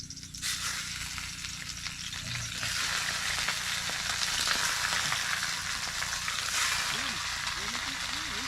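Gourami fish frying in a hot pan, a steady broadband sizzle that swells as the fish go in and keeps crackling throughout, with voices talking over it and a few rising whistle-like tones near the end.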